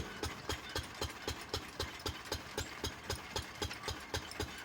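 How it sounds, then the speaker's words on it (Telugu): Electric motors drive poha (flattened rice) mill machinery in a village mill, producing a steady hum with regular rhythmic thumps repeating about three times a second, close and without voices. "ఇవన్నీ కరెంటు మోటార్ ద్వారా తిరుగుతున్నాయి."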